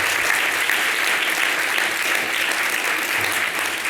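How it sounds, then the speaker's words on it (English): A crowd claps steadily at the 2024 Connecticut Kid Governor inauguration ceremony, a continuous even wash of applause from many hands with no pauses. "Let's have another round of applause."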